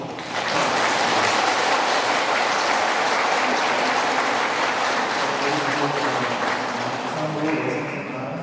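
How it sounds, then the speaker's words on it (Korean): A church congregation applauds at a Bible-study course completion ceremony, a full, sustained round of many clapping hands filling the room for several seconds before tapering slightly at the end. "다시 한번 큰 박수로"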